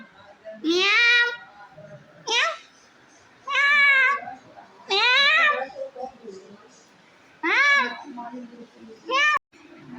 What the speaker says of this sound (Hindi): बिल्ली ये है,